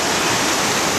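Water gushing out of a hole in a monks' aqueduct at the New Athos Monastery in Abkhazia, a loud, steady, broadband rushing roar like a small waterfall, continuous throughout.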